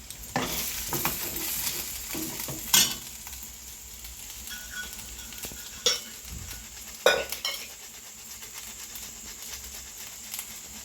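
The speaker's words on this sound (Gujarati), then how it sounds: "ડુંગળી પાકી જાય ને પછી બટેટું ખમણીને નાખી દેવાનું" Onion and grated potato cook in a pan for aloo paratha filling, a steady soft sizzle with stirring scrapes and a few sharp utensil clinks close by, no voices.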